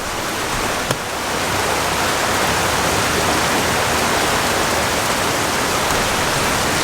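Rain falls outside in Samoa beside a small shelter, a constant loud wash of hiss with one brief tap early on and no talking.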